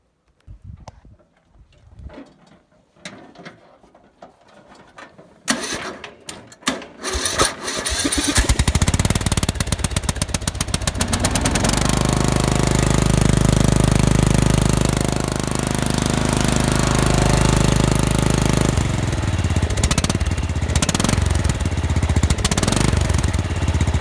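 A stock-exhaust offroad Murray engine is started and runs: a few quiet clicks and sputters, then it catches and roars into a loud, steady running drone with slight revving, close up and with no talking.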